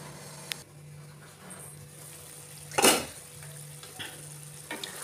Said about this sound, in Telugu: ఇప్పుడు 1-2 నిమిషాల పాటు కారాన్ని ఉడికించుకోవాలి.